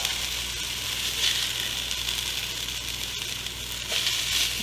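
Homemade crispy hashbrowns sizzling in an electric pan just after flipping, a steady, close hiss of frying with faint scraping and no talking.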